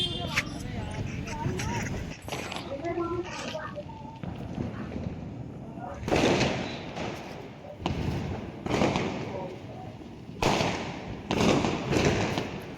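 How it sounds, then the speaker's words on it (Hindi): Diwali firecrackers and ground spinners going off outdoors, a series of sharp loud bangs and crackling bursts spread irregularly through the clip, with voices and household chatter in between. "जब वो बम फटाके फोड़ रहे थे"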